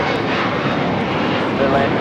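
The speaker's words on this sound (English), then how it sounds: "753 taking off to Atlanta on the A321" American Airlines A321 airliner taking off from Los Angeles bound for Atlanta, a loud, steady broadband engine roar filling the whole clip, close and continuous, with a voice speaking over it.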